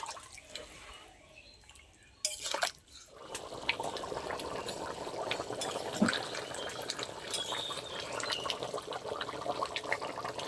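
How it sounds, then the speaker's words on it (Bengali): Water is poured a little at a time into a pan of paneer gravy with boiled potatoes, giving a close, soft liquid splashing and dripping that continues after a brief quiet gap, with no talking. "গ্রেভির জন্যই শুধু অল্প করে জল দিচ্ছি।"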